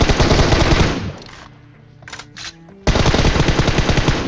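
Rapid automatic gunfire during a fight in a shooter video game, loud and close. A long burst, a quiet gap with faint clicks, then a second sustained burst.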